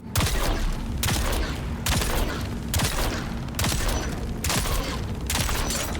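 Regis snub-nose pistol fire in Dune Awakening, in repeated rapid bursts about once a second, each a cluster of sharp shots with mechanical clatter, loud and even, with no voices.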